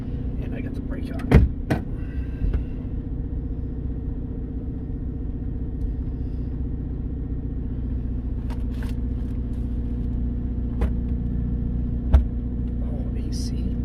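A 1993 Chevy G20 van's old 350 V8 idles with the brake on, a steady low rumble running throughout with a couple of brief knocks or clicks, and people talking at times.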